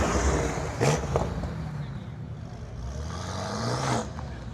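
A 1,200-horsepower all-wheel-drive car doing a burnout to warm its tires at a private track day, engine roaring and revving loudly with rising pitch sweeps, close and continuous, no talk.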